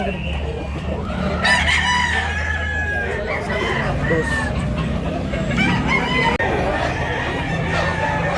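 Several roosters crow repeatedly, some close and loud, others farther off, over a busy yard of clucking and background chatter in Tabunok, Cebu.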